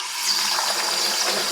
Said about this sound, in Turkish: Suyu açıyorum.